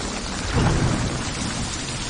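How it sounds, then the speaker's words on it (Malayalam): Heavy rain pours in a dense, steady roar while a rumble of thunder swells briefly in the middle, loud and close with no voices. "അതിവിടെ നല്ല മഴ, ഒന്നും കേൾക്കുന്നില്ല"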